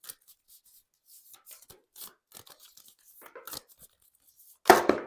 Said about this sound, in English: Always a little hard to shuffle these cards.